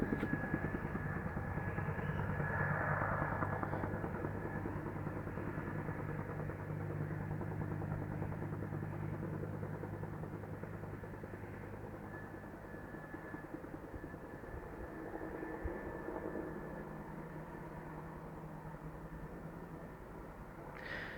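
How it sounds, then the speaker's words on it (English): UH-1 Huey helicopters fly overhead while fetching water for a fire, a low steady rotor drone and engine hum at a distance, fairly faint and constant throughout. "that's a UH-60, I think, or not a UH-60, it's UH-1, a Huey"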